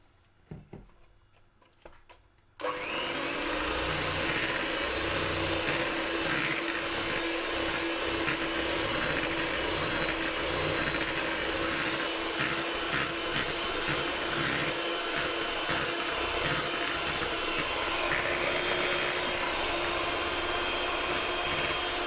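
Electric hand mixer beating butter biscuit dough switches on after a quiet start and runs at a steady, loud whir that continues without pause.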